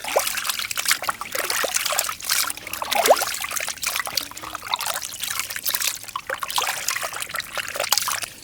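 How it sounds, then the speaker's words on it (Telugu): Three kilograms of boneless mutton pieces being washed in water, with continuous trickling, pouring and sloshing as the meat is rubbed and rinsed, close by, with no one talking. "మూడు కిలోల బోన్లెస్ మటన్ అండి ఇది శుభ్రంగా కడిగేసుకుందాం"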